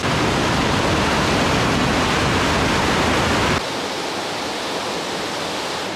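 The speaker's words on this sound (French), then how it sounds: "Des 3 cascades, celle-ci est clairement la plus sympa, hein." Waterfall on a mountain trail at Doi Inthanon, Thailand, a dense, loud, continuous roar of rushing water close by that drops to a softer, steadier rush partway through, with no voices.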